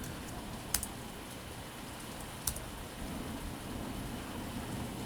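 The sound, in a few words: thunder during rain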